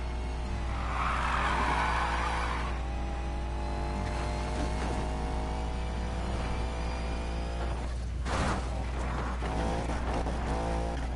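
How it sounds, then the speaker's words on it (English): A Crown Victoria police car engine in a PS4 driving game revs steadily at a constant drone, climbing in pitch, with a short burst of tire squeal or skid near the end. "the Crown Vic has enough grunt in the engine"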